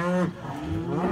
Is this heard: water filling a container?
no